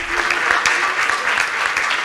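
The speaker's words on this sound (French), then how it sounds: "oui, il faut applaudir les artistes, bien sûr." Dense applause from a conference audience fills the room steadily for the full two seconds, a close, even wash of many hands honouring the artists whose paintings hung throughout the congress.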